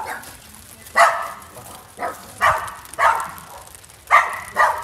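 Dogs bark in short bursts, about six sharp barks spaced roughly a second apart, fairly close, over a background hiss of heavy rain.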